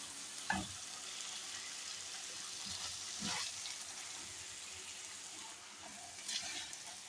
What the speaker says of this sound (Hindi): ये हमने प्याज और भिंडी एक साथ डाल दिया।